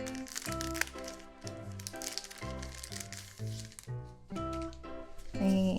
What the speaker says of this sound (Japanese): 紙刺繍カレンダーの中身をちょっと開けていきます